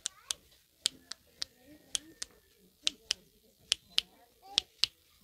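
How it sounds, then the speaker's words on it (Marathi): Sharp one-handed claps from a blind performer in Shirdi, about a dozen crisp slaps in an uneven, quick rhythm, close and clear over a quiet background. "ही एका हाताने टाळी आहे"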